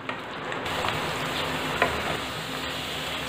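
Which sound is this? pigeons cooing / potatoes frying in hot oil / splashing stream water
potatoes frying in hot oil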